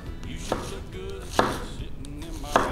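A knife chops through an onion on a cutting board in three sharp, close strikes spaced about a second apart, with a quiet background between the cuts.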